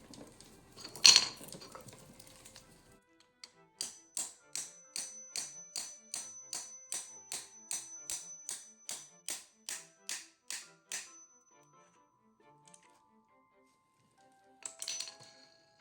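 A star nut installer is tapped into a bicycle fork with about fifteen evenly spaced, sharp metallic taps, each with a short ring. A louder knock comes first and a brief clatter follows at the end.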